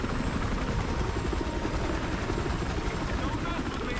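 A helicopter in the video game Battlefield Hardline gives a continuous, loud rotor chop and engine drone, steady throughout, with people talking over it.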